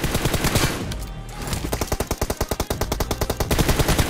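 Rapid automatic gunfire in the PUBG video game, loud close bursts of evenly spaced shots with a short pause between volleys, no talking.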